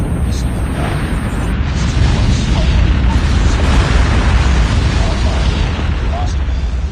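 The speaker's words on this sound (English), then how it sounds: "Hostile Predator missile inbound." A Predator missile strike in a Call of Duty multiplayer match sets off a loud, sustained rumbling explosion with a dense roaring wash, heard close while game announcer voices speak over it.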